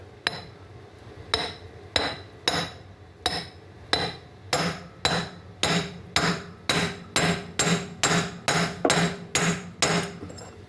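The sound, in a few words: hammer tapping seal into place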